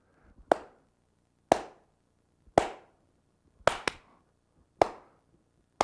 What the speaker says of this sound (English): telling which of those claps came at an interval where it shouldn't have